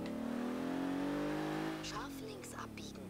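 A heavy supersport car in Forza Horizon 3 accelerates hard, its engine note rising steadily as it revs up close, then easing off, with a voice briefly speaking over the tail end.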